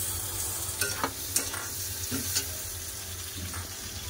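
Tomatoes dropped into a pan of onions already sautéed in oil, a low steady sizzle with several sharp stirring scrapes and clinks of a spatula against the pan, close but quiet.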